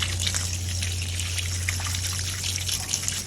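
Water sprays from a garden hose onto hanging flower baskets, a steady splashing trickle close by with a low hum underneath.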